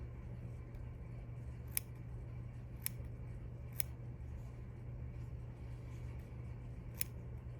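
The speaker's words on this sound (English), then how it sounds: "use the awl to brush some of that fur away again, and then trim just a little bit where the hole is" Scissors snip mink fur from an old fur coat around an eye hole on a handmade teddy bear, four or five crisp, separate clicks spaced about a second apart over a low steady hum.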